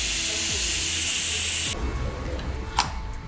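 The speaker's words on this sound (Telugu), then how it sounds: "ఆవిరి తీసేసాము" A pressure cooker of microgreens dal lets out a loud, steady rush of steam for under two seconds before it abruptly stops, leaving faint kitchen clatter and a brief knock afterward.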